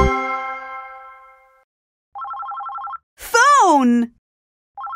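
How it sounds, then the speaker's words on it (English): A cartoon telephone rings in a children's song, giving short bursts of bright, trilling electronic rings separated by silence, with a brief sung or spoken voice between the rings. "The phone is ringing, ring, ring, ring."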